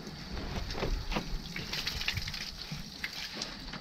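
Spring water pours from a stone spout into a bottle, a steady close-up gush of running and filling water that carries on without a break and without voices.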